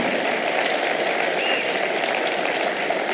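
Congregation clapping together at a church gathering, a dense, steady wash of applause that carries unbroken and fairly loud throughout, with no voices rising above it.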